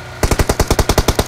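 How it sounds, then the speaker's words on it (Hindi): A rapid burst of about ten evenly spaced gunshots fired from a house in BGMI (PUBG Mobile), loud and close, with no talk over it. "यहाँ आते ही लाल वाले घर से कोई बंदा हमारे ऊपर गोलियां चलाता है"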